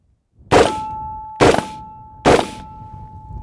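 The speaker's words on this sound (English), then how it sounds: "Hitting that steel, you can hear bah," Rifle rounds from a Gilboa DBR Snake double-barrel AR striking steel targets downrange: three sharp metallic clangs about a second apart, each ringing on with a lingering tone, heard alone.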